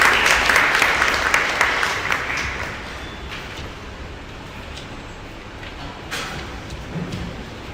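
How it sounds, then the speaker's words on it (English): An audience's round of applause welcoming a speaker at a design evening event starts loud and full, then tapers off over several seconds into scattered claps and room noise. "A warm welcome and a big round of applause for Mr."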